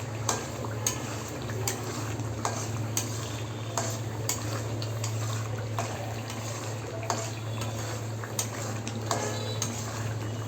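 Spices are stirred in a cooking pan over a steady low burner hum, with repeated scraping and light metallic clinks of a utensil against the pan in an uneven rhythm.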